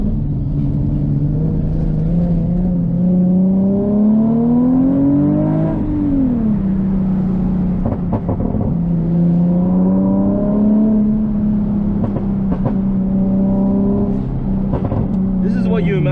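A Nissan 370Z engine drones and revs while speeding through a canyon road, heard from inside the car with pitch rising and falling as the car accelerates and shifts, loud and steady throughout.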